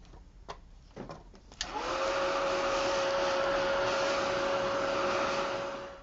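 A heat gun used to heat-set wax on a mixed media notebook starts after a few handling clicks, then blows a loud, steady whirring hiss with a constant motor whine, close by and alone.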